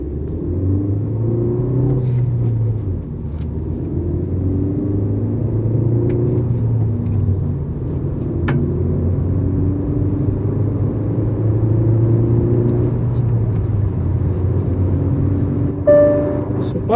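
A Hyundai Verna 1.5 MPI petrol car pulls away in a performance run, its engine droning and rising steadily under a low road rumble for the whole stretch, the throttle eased on gradually rather than floored.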